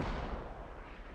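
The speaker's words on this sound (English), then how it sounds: "Mortars landing on the hillside." Mortar shells land on a hillside in the military shooter Squad, a brief, faint, low rumbling thud of distant impacts with a dull echoing tail.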